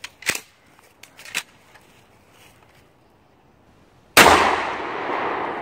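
A sharp, loud blast from a shotgun firing double-aught buckshot into a refrigerator, coming after a few light clicks and knocks, followed by a long decaying roar and echo.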